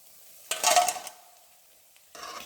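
Vegetable pakoda frying in hot oil, with a burst of sizzling and stirring clatter that fades to a faint hiss, then swells again near the end.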